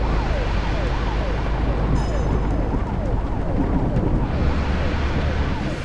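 Ambulance siren in a truck driving video game, a wailing up-and-down sweep repeating steadily over a deep engine rumble, loud and close, with a voice talking faintly beneath.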